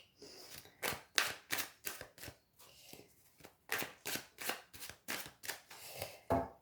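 Playing cards are shuffled by hand on a bistro table in a quick series of crisp riffling bursts, about a dozen in a row with short gaps between them, close and fairly quiet.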